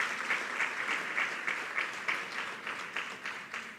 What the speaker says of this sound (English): Big round of applause to Clara and welcome.